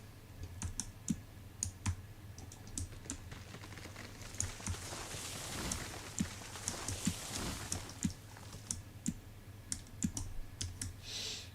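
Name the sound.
loud computer keyboard typing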